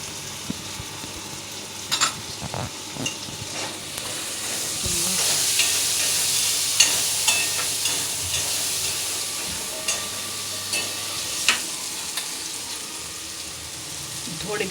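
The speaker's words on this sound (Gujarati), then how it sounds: "મસ્ત મજાના ચણા જો વઘારે છે" Chickpeas are tempered in a hot pan and sizzle steadily with a bright, hissing crackle, close by. Occasional clinks of a spoon stir through it, and no voice is heard.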